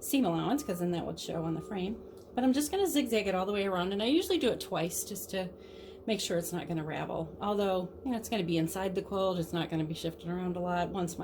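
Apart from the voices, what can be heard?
No everyday noise stands out behind the speech.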